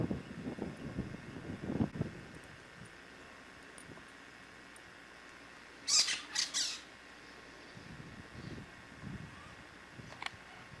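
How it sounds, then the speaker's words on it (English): Wild parrots perched among cacti near old gold mine ruins in Aruba let out a short cluster of harsh squawks in the middle, set against wind noise and faint rustling. "we got wild parrots in the cacti"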